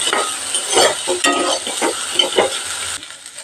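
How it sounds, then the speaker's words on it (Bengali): Sweet corn frying with onion and garlic in a pan, stirred repeatedly, making rhythmic scraping strokes over a continuous loud sizzle that drops off slightly near the end. "এটা কিছুক্ষণ পেঁয়াজ রসুনের সাথে ভেজে নেব"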